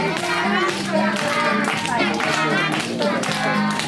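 Rhythmic group clapping at a kindergarten family-day party, steady beats alongside children singing and a close, loud mix of voices.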